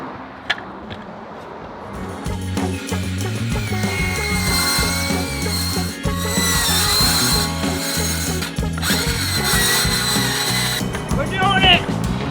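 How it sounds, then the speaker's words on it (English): A power saw cuts a bevel in wood for a roof window installed on a tiny home. It runs steadily and fairly loud for most of the clip, with some faint speech-like sound. "I'm going to cut the bevel and should just pop right in."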